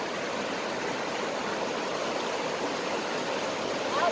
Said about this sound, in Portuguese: é como se fosse uma queda d'água aí